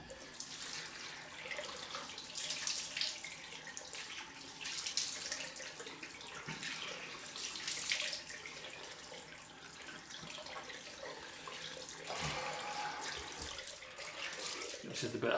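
Bathroom tap running for a cold rinse after a straight-razor shave: a steady, fairly quiet stream of water with splashing changes as hands move through it, and no talking over it.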